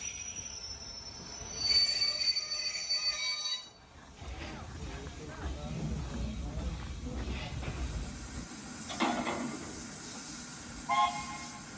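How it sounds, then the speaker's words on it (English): Model railway trains running on the Horsted Keynes layout at a model railway weekend, with squealing wheels, hissing and rumbling rolling stock passing close, plus a brief horn-like tone, under a voice talking. "Horsted Keynes was always a hive of activity, with trains passing each other throughout the day."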